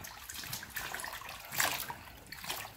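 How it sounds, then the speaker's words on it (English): Hot tap water runs over a few collard green leaves being rinsed of dirt at a sink, a steady close splashing wash with a brighter gush partway through. "take a few of the leaves, put it in some nice hot water, and just give it a nice dose"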